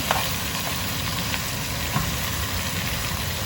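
Onions and pork skin braciola brown in a hot pan with a steady, dense sizzle that stays even throughout, with a few faint clicks of stirring.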